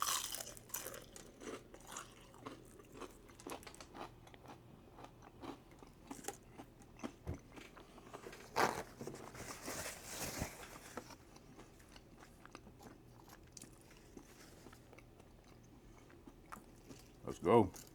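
Someone bites into a crunchy spring roll and keeps chewing close to the mic, with scattered crisp crunches over soft mouth sounds and one louder bite near the end.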